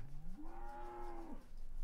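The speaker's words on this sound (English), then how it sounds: "That's your feed for the cows. This is what the cows look like." A single cow in Farming Simulator 17 on the De Terra Italica map gives one long moo that rises, holds and drops away, clear over a quiet background.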